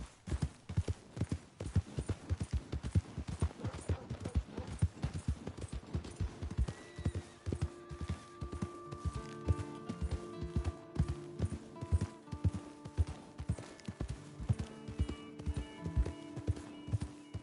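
Hooves of a horse clip-clop at a brisk, regular pace in Red Dead Redemption 2, the steady beat running on under a rising musical score.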